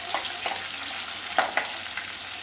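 Small onions sautéing in a pan for Tamil tomato gravy, a steady close sizzle with a few sharp scraping stirs of a spoon breaking through.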